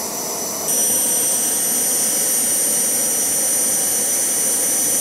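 A homemade Kamps jet engine burning kerosene roars loud and steady, with a sharp high-pitched whine that jumps up in strength after a brief quieter start and then holds constant.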